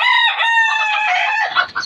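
Loud, close rooster crowing rings out in one long call, with hens clucking briefly at the end.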